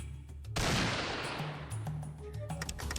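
Gunfire from the video game Fallout 2 breaks out abruptly as a loud burst, then trails off into a rattling, noisy decay with scattered further shots over a low droning game background.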